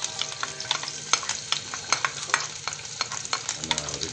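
Peppers fry in hot oil in a pan, giving a continuous close sizzle with crackling pops and scraping stirs throughout, and no talk.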